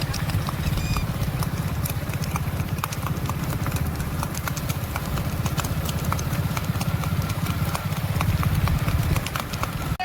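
Dense, rapid clip-clopping of horse hooves, many hoofbeats overlapping in a steady patter over a low engine-like rumble, loud and close throughout.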